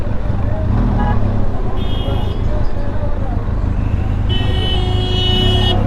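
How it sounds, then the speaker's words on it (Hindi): Busy road traffic in the Batkhela bazaar on the Swat route, engines rumbling nearby with several short car horn toots and a longer honk toward the end, heard from inside a moving vehicle. "बटखेला बाज़ार शुरू हो गया और थोड़ी सी ट्रैफिक है इधर"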